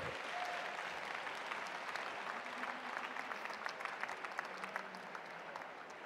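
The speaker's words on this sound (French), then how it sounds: "applaudissez-vous" An audience applauds itself at a French-speaking gathering, a full, sustained round of clapping with individual claps popping through the dense wash, steady throughout and heard from amid the crowd.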